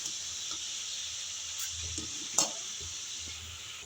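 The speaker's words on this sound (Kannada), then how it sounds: "ಚೆನ್ನಾಗಿ ಫ್ರೈ ಮಾಡ್ಕೋತೀನಿ." An egg fries in a pan for an egg burger, giving a steady bright sizzle throughout with a few soft clinks and scrapes of a utensil against the pan.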